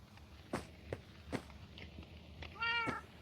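Cats in the video game Minecraft meow a few times, spaced apart, with one longer wavering meow near the end and soft game footsteps between them.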